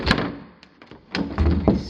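The north bedroom door in a 1970s house interior is pushed shut, giving a sharp close-up thump, then a softer rattle and a second solid knock as it seats in the frame.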